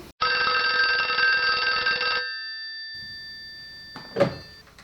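A telephone bell rings once in a continuous two-second burst, loud and close, then cuts off to quiet. A door-like thunk follows a couple of seconds later.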